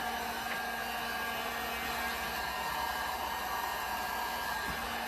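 A heat gun blows steadily over wet resin on a beach-themed sand painting, a constant close whooshing hiss of hot air running unbroken and loud with no talk over it.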